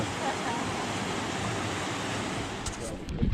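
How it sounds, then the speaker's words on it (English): A stream on a Grand Canyon trail flows in a steady, broadband rush, heard up close and continuous, with a few faint knocks near the end. "now we've got a good stream again"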